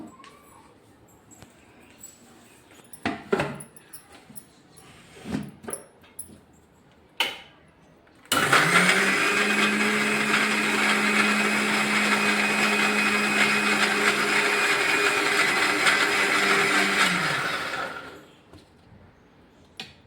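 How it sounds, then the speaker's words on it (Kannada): A mixer grinder blends mango, milk, nuts and crushed cardamom, starting abruptly with a loud steady whirring roar that runs for about ten seconds before winding down, preceded by scattered clatters and knocks as the jar is set up. "ಈಗ ಮಿಕ್ಸಿಗೆ ಹಾಕಮ್ಮ."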